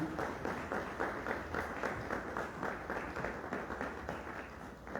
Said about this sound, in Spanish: Démosle un fuerte aplauso a María, que está aquí.